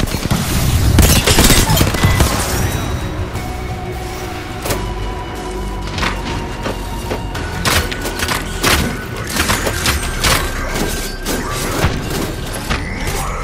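Rapid gunfire rattles through an Apex Legends match, with loud bursts, booms and impacts packed densely at first, then repeated shots and mechanical clicks continuing steadily, close and intense, with no talk.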